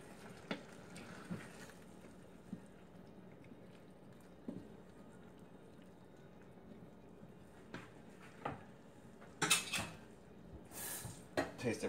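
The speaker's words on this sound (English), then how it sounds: "Stir it up." Kadai tofu masala is stirred in a pan, heard as quiet, scattered clinks and scrapes of a utensil against metal, with some faint talking in the background.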